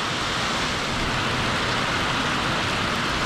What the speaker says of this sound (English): Look at that rain though, that Florida rain, boy.